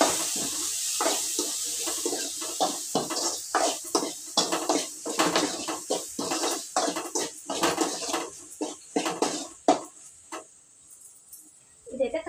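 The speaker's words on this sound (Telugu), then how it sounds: "ఇదైతే ఒకసారి కలిపేస్తా బాగా" A curry with chillies being mixed in a cooking pot, a ladle clanking and scraping against metal in a steady run of close, uneven strikes, trailing off near the end.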